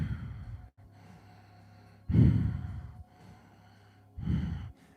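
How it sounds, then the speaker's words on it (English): Breathwork practice with forceful rhythmic breathing close to the mic: loud whooshing exhales alternate with quieter inhales at a steady pace, with no talking. "Exhale and inhale. Let's go faster now."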